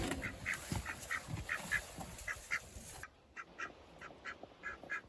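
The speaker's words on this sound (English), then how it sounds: "I mean, they are ducks, that's what they do." Ducks quack repeatedly in a farm duck house, a steady run of nasal calls over low rustling and scuffling, the background noise dropping away halfway while the quacks carry on.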